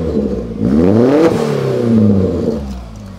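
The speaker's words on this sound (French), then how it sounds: "Je vais mettre un coup de gaz ou deux." A Peugeot 205 GTI engine revs up twice in quick succession, pitch rising and falling, loud and close, with no talking.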